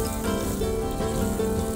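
Kodi pulao frying in a pan makes a continuous sizzle under a droning hum for just under two seconds, with no voices.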